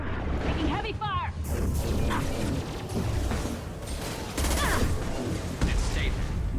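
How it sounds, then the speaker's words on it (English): Gunfire crackles through a Mass Effect firefight in sharp, overlapping bursts, with mechanical clanks and booms mixed in, while voices call out over the shooting. "taking heavy fire!"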